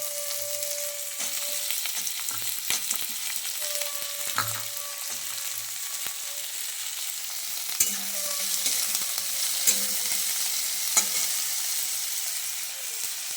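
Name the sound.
eggplant frying in a pan for Beto Sak recipe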